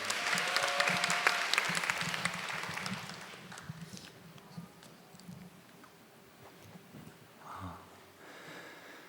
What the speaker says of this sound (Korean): 단상 가실 때 박수 부탁드릴게요